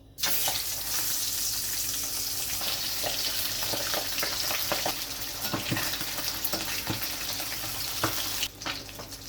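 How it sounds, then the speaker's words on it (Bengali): Pabda fish fry in hot oil with a loud, steady sizzle and crackle that fills the whole stretch, with scattered spatters and a brief dip near the end. "তেলটাও গরম হয়ে গেছে, মাছগুলো ভেজে নিচ্ছি।"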